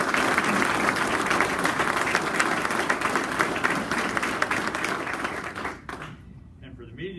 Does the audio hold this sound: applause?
yes